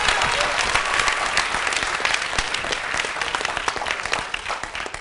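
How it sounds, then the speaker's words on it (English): An audience at a hip hop youth summit forum gives a presenter loud, sustained applause, a dense crackle of many hands with a few sharp individual claps, fading slightly toward the end. "let's give him another round of applause."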